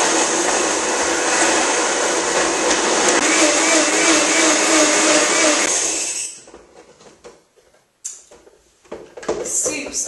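A Blendtec blender on an extra large smoothie cycle whirs loudly and steadily through spinach and ginger soup for about six seconds, then stops, leaving clattering and handling noises.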